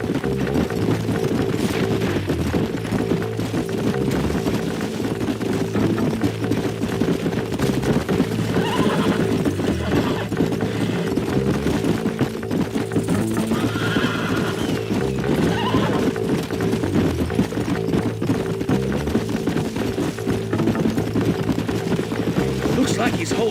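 Horses in the Red Dead Redemption video game gallop with continuous clip-clop hoofbeats and neigh now and then, loud and steady beside a background music bed.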